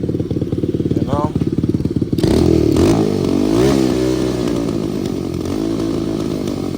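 An engine starts with a key and runs, then settles back toward idle, giving a loud, steady, rough mechanical drone close by with a brief rev, while a voice talks over it early on.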